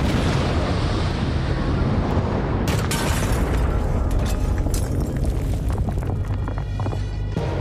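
A loud, sustained roar from an explosion at the Bibi Fatima mosque in Kandahar, Afghanistan, with a sharp burst around the middle followed by crackling, rumbling debris noise throughout.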